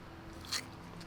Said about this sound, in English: That's way too crunchy for a pear.